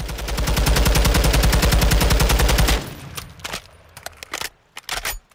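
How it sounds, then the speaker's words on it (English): An MK 16 CQC rifle in Call of Duty Modern Warfare II fires one long full-auto burst, a loud, steady, rapid string of booming shots lasting nearly three seconds. Scattered clicks and softer thumps follow. "what I'm gonna do is just let this thing rip full auto"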